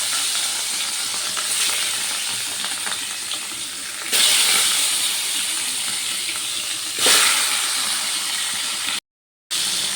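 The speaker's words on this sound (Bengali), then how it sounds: "তেলটা গরম হয়ে গেছে এবার যে মাছগুলো নুন হলুদ মেখে রেখেছিলাম মাছগুলো তেলে দিয়ে দিতাম" Fish pieces rubbed with salt and turmeric fry in hot oil in a wok, giving a steady loud sizzle that swells twice as more fish goes in, with no talk.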